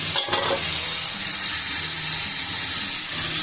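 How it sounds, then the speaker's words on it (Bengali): Tomato and spice paste fries steadily in hot oil with bay leaf, a constant close sizzle with a few stirring scrapes near the start, no voices. "আবার টমেটো একটা তেলের সাথে ভেজে আমি এটা মশলাটা কষিয়ে নিচ্ছি"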